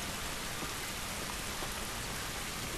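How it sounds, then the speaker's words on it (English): Steady rain hisses evenly in The Last of Us Remastered, a dense, continuous wash of falling drops with no voices over it. "But everyone enjoy the rain."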